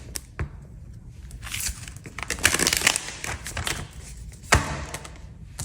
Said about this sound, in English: Let me shuffle them better.